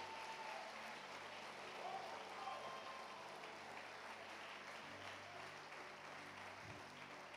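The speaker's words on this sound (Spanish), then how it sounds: "Aplaude a Dios, aplaude a Dios." A church congregation applauding during a Spanish-language sermon, a quiet, distant wash of clapping with faint voices mixed in underneath.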